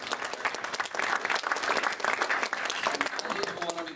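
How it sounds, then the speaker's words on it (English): An event audience claps warmly, with dense, sustained applause filling the room and lasting throughout. "Let's give a big round of applause to Kiran, Patricia, and all the volunteers."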